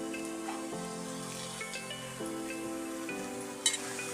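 Fresh spinach goes into a hot pan and is stirred, giving a steady soft sizzle with light scraping and a small clatter near the end, with no talking.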